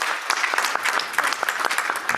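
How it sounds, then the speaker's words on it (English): Audience applause at a cancer health equity symposium plenary welcomes a speaker, a moderate crowd of individually distinct claps in a brisk, uneven patter heard alone. "give her a round of applause"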